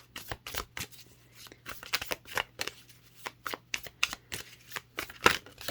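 Tarot cards are shuffled by hand in quick, crisp riffling flutters that repeat in an irregular rhythm, close and fairly quiet, over a faint steady hum.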